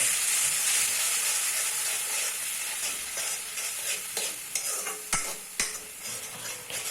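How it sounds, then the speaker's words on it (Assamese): Chole masala spices frying in oil in a pan with a little water added, a loud, bright hiss that fades somewhat, then scattered sharp clinks and scrapes of stirring near the end. "মছলাখিনি ভালকৈ ভাজি হোৱালৈকে এনেকৈ ভাজি থাকিম লৰাই"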